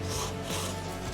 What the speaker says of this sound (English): After removing the excess sealant with a blade